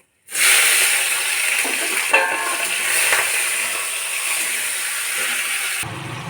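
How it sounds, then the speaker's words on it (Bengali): Shrimp frying in a wok of hot oil for a bottle-gourd prawn curry, a steady broadband sizzle that starts abruptly and holds loud and continuous for several seconds before cutting off near the end. "চিংড়ি মাছটা ভাজা হচ্ছে"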